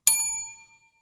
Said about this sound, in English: Do we have the bell here?